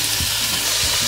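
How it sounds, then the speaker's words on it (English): Calamari sizzles and crackles loudly in a hot pan, a dense, steady hiss of frying with a couple of soft low stirring thumps, no voices over it. "And let's throw our calamari in."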